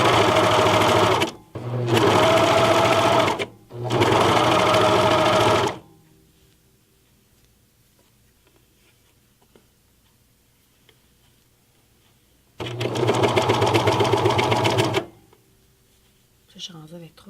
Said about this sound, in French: je vais mettre un surjet par en haut et un surjet par en bas